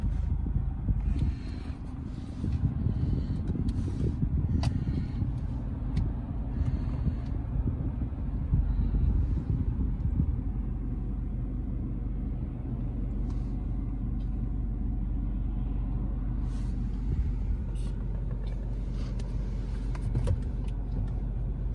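Rush-hour road traffic on No. 2 Road in Richmond: a steady low rumble of passing cars with wind buffeting the microphone, sustained and fairly even throughout.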